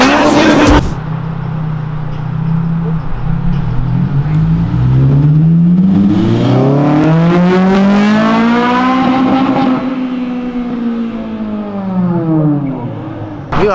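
A Ford Fiesta on a city avenue revs hard and loud through repeated VTEC-style high-rpm climbs, the pitch sweeping up and falling back over several seconds, with a sharp burst at the start and people talking underneath.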